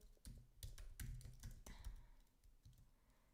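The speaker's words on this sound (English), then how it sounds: "I'll type in the name." Typing on a computer keyboard during a Google search, with irregular bursts of close key clicks and taps, some heavier strokes, no talking.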